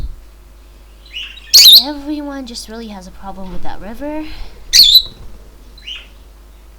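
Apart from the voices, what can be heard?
birds chirping in ClanGen video game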